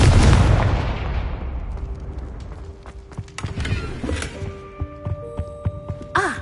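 Confringo spell blast in the Hogwarts Legacy video game: a loud booming impact right at the start that rumbles and fades, followed by scattered thuds, crackles and small game effects.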